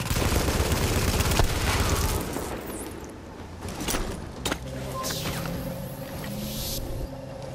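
Gunfire rattles in the Tom Clancy's The Division video game during a fight at the Russian consulate, dense bursts of shots and heavy booms first, then scattered single reports and electronic tones as the barrage thins out.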